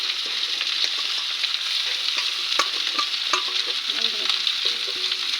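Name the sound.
greens being stirred and fried in a pan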